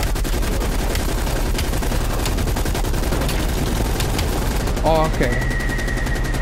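Rapid automatic gunfire from the Call of Duty Cold War campaign, dense and continuous throughout with a few sharper shots standing out, while a voice speaks briefly near the end.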